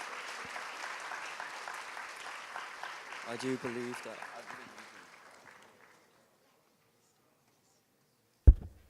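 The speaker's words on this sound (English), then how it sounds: "can we give a round of applause to this panel speakers?" A conference audience applauds the panel speakers at a UKEC session, with a warm burst of clapping that fades out after several seconds while someone briefly speaks over it, followed by silence and one sharp thump.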